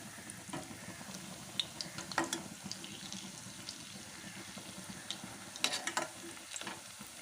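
Breaded fish fingers coated in cornflour and breadcrumbs fry in oil with a faint, steady crackling sizzle and occasional sharper pops and spatters.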